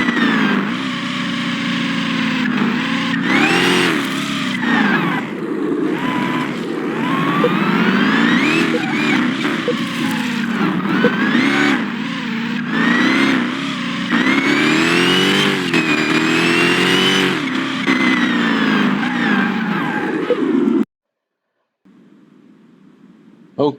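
A car on the test track in Car Mechanic Simulator 2021 revs and accelerates loudly, its engine pitch rising and falling through repeated gear changes for about twenty seconds before cutting off abruptly into near silence.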